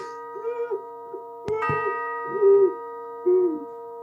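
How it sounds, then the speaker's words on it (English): A bell chimes during a high school stage production of A Christmas Carol, with a sharp struck tone ringing out once amid sustained musical tones and soft cooing, hooting sounds. "the bell chimes for the last time"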